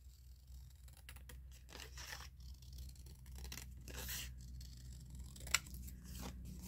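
Scissors cut down a paper tab for a junk journal, giving a series of faint, close snips and crisp paper rustles over quiet room tone, with a single sharp click near the end and no talking.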